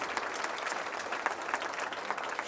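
Crowd applause at a girls basketball hall of fame award banquet, a moderately loud, even patter of many hands continuing throughout.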